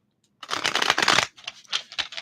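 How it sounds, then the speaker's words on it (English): Crisp, rapid riffling of tarot cards being shuffled, a dense burst followed by a few shorter flutters, close and clear with no talking. "let's give these a little shuffle"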